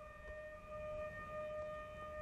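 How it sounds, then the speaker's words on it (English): A steady, droning civil-defense-style siren sounds over low background rumble before the static test firing of a five-segment solid rocket motor for the Ares I, holding a constant tone throughout. "Sirens are blaring."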